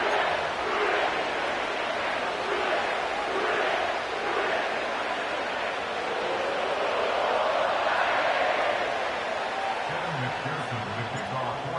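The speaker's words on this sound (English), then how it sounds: "sellout crowd has arrived at Paycor Stadium in Cincinnati" A sellout crowd fills Paycor Stadium in Cincinnati for a Bengals–Steelers football game, a loud, continuous roar of voices with broad swells.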